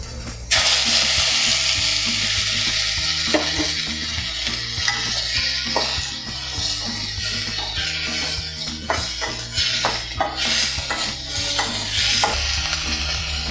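Onions and tomatoes sizzle steadily in a pan for avaram flower chutney, with repeated scraping and clinking stirs of a spatula over the continuous frying hiss, close up and without speech.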